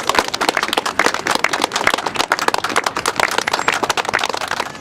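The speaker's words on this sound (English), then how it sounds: "So can we give him a round of applause?" Crowd clapping at a street welcome rally in New York City, loud, close, uneven hand claps with sharp individual slaps that continue throughout.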